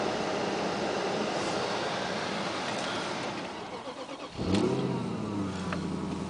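A car engine runs on a freezing morning, around -1 degrees Celsius, with a steady close rumble, then dips and restarts with a sharp rise in revs before settling back into an even idle.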